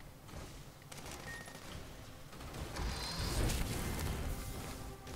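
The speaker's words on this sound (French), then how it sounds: "Mitrailleuse automatique" An automatic machine gun fires in the Sand Land demo on PS5 as a dense, sustained rattle of gunfire with explosive crashes, growing louder halfway through.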